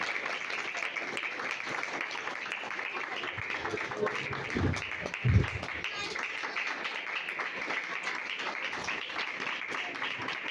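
Applause from a church congregation in Pakistan, a steady wash of many hands clapping at moderate distance, with a couple of louder bursts near the middle.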